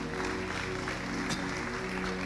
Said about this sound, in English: Okay, you are clapping now.